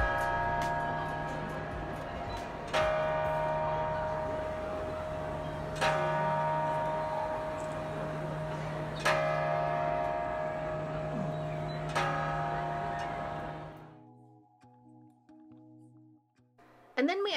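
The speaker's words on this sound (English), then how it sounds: "the clock tower, where you can see the bronze men strike the bell at the top of every hour" Bronze figures strike the bell atop the clock tower in St. Mark's Square, Venice, on the hour: four loud, ringing strokes spaced about three seconds apart, each left to hum and decay over a steady crowd murmur, before the ringing cuts off.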